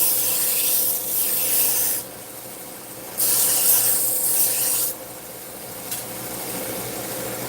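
A single-bevel Kamikoto kitchen knife is drawn across a sharpening surface to cut in its bevel, giving steady abrasive rasping strokes that come and go in bursts of a second or two, close up with no talking.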